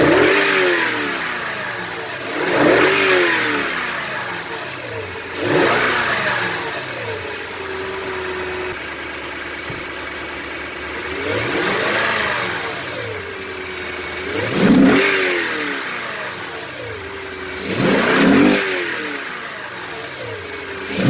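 A Toyota Tundra engine fitted with an AFE cold air intake revs hard about six times. Each loud, throaty surge climbs and then drops back to a low idle between blips.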